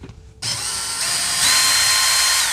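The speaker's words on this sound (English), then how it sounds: "So let me grab a 7mm nut driver." A 7mm nut driver spins nuts off a 2017-2022 Ford Super Duty during cabin filter replacement, a steady close whirring ratchet-like buzz after a brief quiet start, growing slightly louder partway through.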